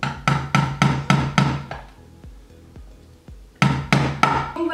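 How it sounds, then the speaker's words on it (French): Nail being driven by a hammer into a lid to punch holes: sharp repeated strikes, a quick burst of about seven, a few softer taps, then another strong run, close and alone. "je vais m'aider d'un clou et d'un marteau"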